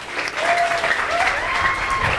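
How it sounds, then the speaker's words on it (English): An audience claps for a performer at a live physical-effects demonstration, a steady dense wash of applause that holds evenly from start to finish, with a few faint whistles threaded through it. "Let's give him a big round of applause"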